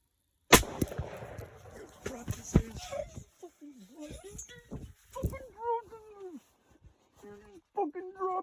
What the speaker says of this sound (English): Once he turns sideways to where you can shoot him in his shoulder, you shoot him.